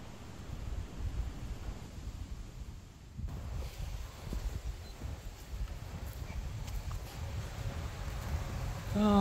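Strong winter wind gusts across a farm in Canada near a rabbit colony, a steady broadband roar with microphone buffeting that swells and eases, louder toward the end.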